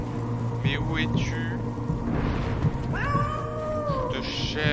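A cat meows in the war game 11-11 Memories Retold, giving several plaintive meows over a rainy ambient backdrop with occasional distant rumble.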